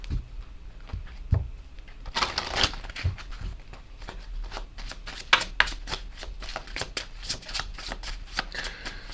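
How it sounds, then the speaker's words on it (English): Message cards shuffled by hand for a reading, a close run of soft riffling flutters and crisp flicks with short pauses between bursts, quiet and alone. "so let's get some of these message cards as well."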